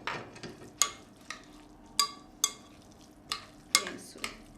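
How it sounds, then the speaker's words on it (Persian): A metal spoon stirs a chicken tahchin rice mixture in a bowl, making repeated sharp clinks and soft scraping strokes at an uneven, steady pace, close up and with no talking. "من با قاشق هم بزنم بهتره."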